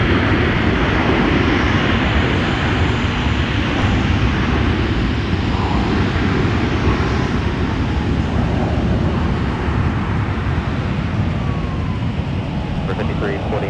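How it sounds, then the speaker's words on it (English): Delta Air Lines Airbus A320 arriving at Minneapolis airport in winter, a loud steady broadband jet roar close by that holds for the whole stretch with little change. "Wanted to get a nice close-up look for you here on the arriving Airbus A320 for Delta Airlines"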